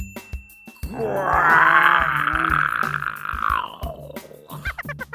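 A person mimics a bear, letting out one long, rough growling groan that swells and fades over about three seconds, loud and close, with light tapping sounds around it.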